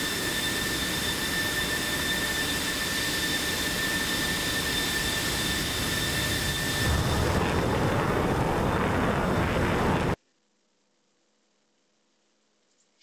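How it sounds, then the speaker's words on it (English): F-15 fighter jets on a short-runway takeoff: a loud, sustained jet roar with a high whine that swells into a broader blast near the end before cutting to silence. "Fifteens are taking a short runway takeoff here."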